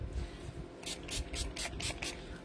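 Six quick hissing bursts of stamp cleaner spray in an even rhythm, close by and fairly quiet, over a low background.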